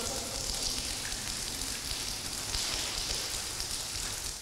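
Steady rain-like patter and trickle fills the space as rainwater leaks from the ceiling into a flooded post office hall, a dense, continuous wash of drips and splashing with no voices.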